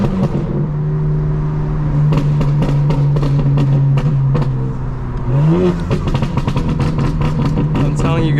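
A tuned 800-horsepower BMW M4 Competition xDrive pulls hard from inside the cabin, its engine note holding a steady tone and then rising sharply, with crackles and pops and someone talking over it.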